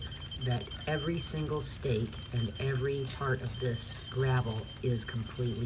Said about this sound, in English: You will hear the beeping of the laser in the background.